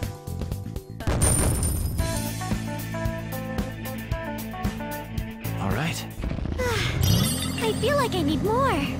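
Gunfire and combat effects from the video game Persona 5, with sharp repeated bursts over a busy musical score and game sounds, mixed with bits of character voice.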